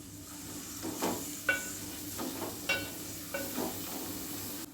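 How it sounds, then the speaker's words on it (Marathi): Onion stirred into a pan of frying green chili, garlic and ginger paste for bajra khichdi, a low steady sizzle broken by several distinct scraping stir strokes, close and moderately quiet. "आता आपल्याला कांदा घालायचा आहे. तो आता हलवून घेऊया आपण."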